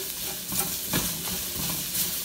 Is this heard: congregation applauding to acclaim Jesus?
no